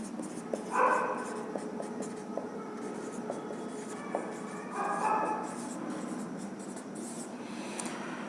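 Equations are written by hand during a physics lesson, a soft continuous scratching of pen or chalk with a few brief louder strokes, over a quiet room hum.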